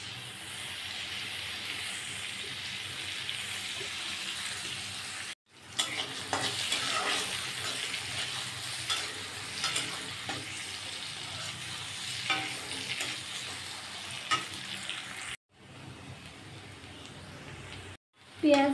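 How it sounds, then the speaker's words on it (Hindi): Onion, green chili and cinnamon fry with cumin in oil in a kadhai on a gas stove, a steady close sizzle with stirring scrapes, broken by brief silent gaps. "इसमें प्याज और हरी मिर्च और दालचीनी दे दिए हैं। तेल और जीरा दे के अच्छी तरह से फ्राई कर लूँगी।"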